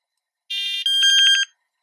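Prologic R2L detector sounds a short electronic alarm tone, two quick warbling segments of about a second in all, close and loud, alone with no voice.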